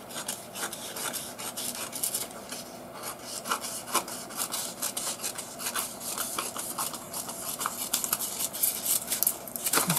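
A small length of material is cut off during a decoupage craft with serviettes for an Easter bunny and egg, heard as close, continuous rasping strokes with a quick scratchy rhythm for about ten seconds and no voices.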